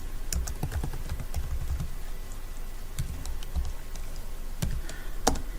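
Text is typed on a computer keyboard in irregular clusters of crisp key clicks over a steady low room hum.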